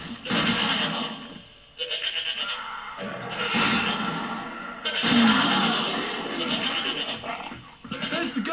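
Goat bleats from a video game running in a PS3 emulator on a OneXplayer handheld with an AMD 5700U, sounding as several loud, wavering cries in bursts over about eight seconds, with game noise in the background and no talk over them.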